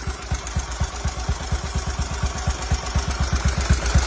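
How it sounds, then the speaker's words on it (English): Warmed-up car engine idling with a steady, rapid low thrumming pulse, close and even throughout with no talk. "Got it warmed up, so got it idling now."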